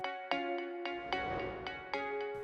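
A phone ringtone in an animated story plays as a bright, tonal electronic melody of sharp repeated notes, about eight quick chimes in a steady rhythm, close and clear with no talking.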